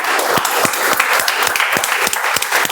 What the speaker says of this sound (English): let's have a huge round of applause for all the volunteers